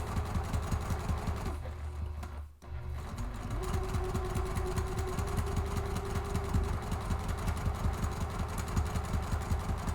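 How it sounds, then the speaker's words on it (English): A Juki TL2000 QI sewing machine runs steadily while top stitching with a quarter-inch foot, a close, loud rapid mechanical whir with a brief pause near the start, then continuous stitching. "this is a Juki TL2000 QI that I am sewing on today"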